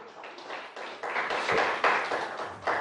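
A church congregation gives a round of applause during a sermon, a rising wash of many clapping hands that swells toward the middle and holds steady, moderately loud.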